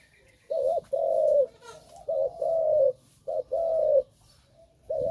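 A dove coos in a repeating pattern of soft, low hooting phrases with brief pauses between them, clear and moderately near.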